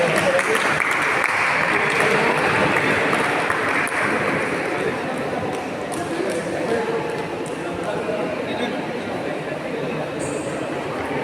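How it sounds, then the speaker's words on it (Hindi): Applause fills a badminton championship trophy ceremony, a dense sustained clatter of many hands clapping that fades a little toward the end. "तालियां बजाइए."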